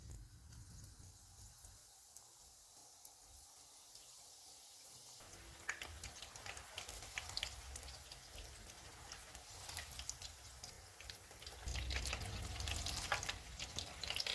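Fish bites deep-frying in hot oil over a medium-low flame, a faint, steady bubbling sizzle that grows busier and louder later on, with no talk.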